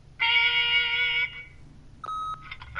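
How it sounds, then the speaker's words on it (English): A sustained electronic answering machine beep from the video game The Wolf Among Us, one long steady tone with a shorter, higher tone following after a brief pause. "leave a message at the beep"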